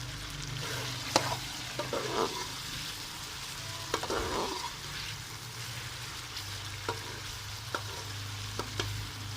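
Green chillies and tomatoes stir-fry in a pot for chicken pulao, giving a steady sizzle at close range broken by scraping stirs and a few sharp utensil taps, with no talking.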